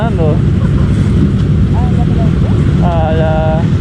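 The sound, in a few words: Kawasaki motorcycle engine during group ride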